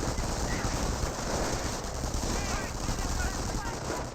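Rapid MP40 submachine gun fire crackles from a Company of Heroes 1 battle amid dense in-game combat noise, with a voice talking over it.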